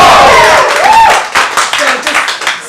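Audience at an improv comedy show applauding and cheering loudly, with a dense wash of clapping and whoops that carries on for the whole stretch, peaking early and then settling into steady applause.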